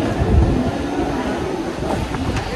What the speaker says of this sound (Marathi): चल, ट्रेन आली